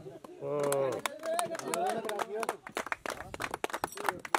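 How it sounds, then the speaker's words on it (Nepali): At an outdoor volleyball event ceremony in Syangja, a voice speaks at first, then the crowd breaks into a ragged burst of hand clapping, fairly faint and scattered. "कृपया ताली बजाइदिनु होला"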